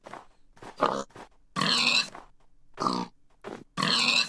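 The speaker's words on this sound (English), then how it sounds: "A pig. Get the piggy!" A pig in the Minecraft video game grunts and oinks in short, close, loud bursts, some clipped and some drawn out, separated by brief silences.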